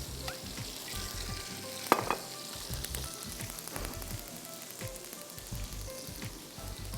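Garlic sizzles and crackles steadily in a little oil in a hot pan, with occasional clinks of a utensil stirring, close and continuous.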